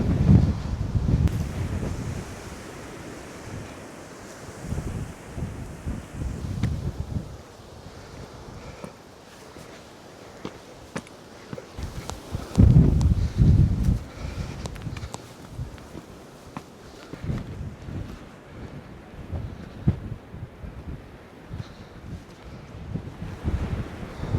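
Wind gusts around a hillside village where church bells hang, heard as rough, buffeting microphone rumble that swells and fades in bursts, with footsteps and faint handling noises. No voices.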